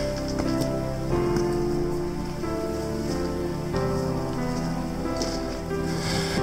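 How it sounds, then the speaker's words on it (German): Rain begins to fall on a mountain path, a steady hiss of patter that stays loud and even throughout, mixed with a low continuous rumble. "es fängt an zu regnen"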